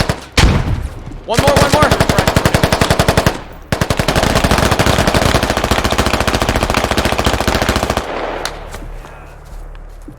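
Loud, close automatic gunfire from the military shooter Squad: long rapid bursts of rattling shots, a brief pause, then another sustained burst, with someone speaking briefly over the firing.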